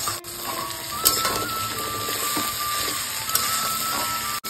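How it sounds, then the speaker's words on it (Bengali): Potato, radish, green chilli, carrot and flat beans frying with onion in a pan, giving a continuous hissing sizzle broken by a few clinks and scrapes from stirring. "প্রথমে এই সবজিগুলো 1 মিনিট মতো পেঁয়াজের সাথে ভেজে নেব"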